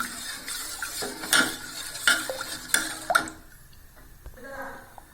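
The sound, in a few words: stirring urad dal porridge in a pot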